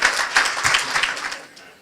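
Crowd applause with dense, scattered clapping, loud at first and gradually thinning out over a couple of seconds.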